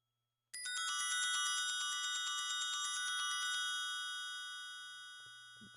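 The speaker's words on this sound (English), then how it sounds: "Maybe like some high bells." High synth bells in a music production session sound as bright, clear, ringing tones that strike together abruptly, sustain, then fade slowly, with no voices.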